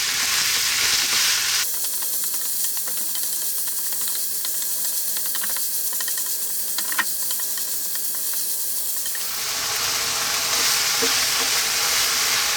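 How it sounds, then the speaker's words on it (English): Ground beef fries over above-medium heat in a pan, giving a steady broadband sizzle with scraping stir sounds; the sizzle drops quieter in the middle stretch, then swells loud again near the end, with no voices. "to that we're going to add the beef, ground beef, minced beef, whatever you call that. And we're on a above medium heat"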